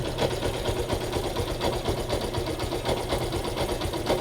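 Motorcycle engine idling at about 980 RPM with a tachometer clamped on the ignition coil, giving a steady, rapid, even putter at close range.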